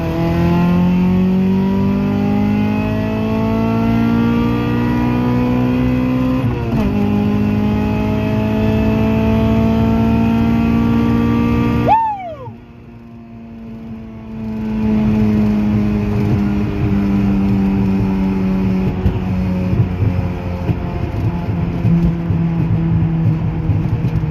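An H22-swapped Honda Civic pulls hard through third gear, its engine note climbing steadily and loud, with a brief drop and dip around a shift before the engine roars back up and keeps pulling.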